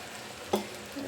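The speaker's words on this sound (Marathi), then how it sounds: "त्याच्यात आता मी खिचडी टाकून घेते" Khichdi drops into a hot pan of cooked potatoes with a brief scrape and sizzle of stirring, heard close and over in about a second.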